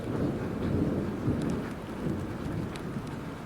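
Rain falls in a steady, moderate hiss with a low rumble of thunder underneath, continuous and even throughout with no voices.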